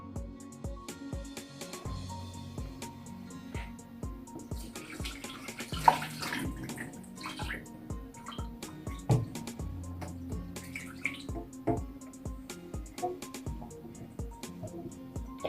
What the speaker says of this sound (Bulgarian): След като картофите поседяха малко, изсипваме водата и ще режем картофите.